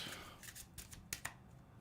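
Playing cards shuffled at close range, a quiet run of quick crisp snaps and riffles with a couple of sharper clicks, no talking.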